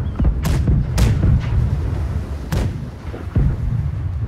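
Ship cannons fire a broadside in the naval video game Blackwake, with several heavy booms in quick succession over a low rumble.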